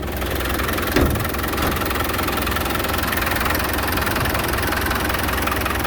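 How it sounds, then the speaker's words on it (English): A Land Rover Defender 110 with a 2.5-liter turbocharged TDI diesel idles up close, a loud, steady clattering rumble that holds even throughout, with no voices over it. "But all these diesel engines, they've always sounded so nice,"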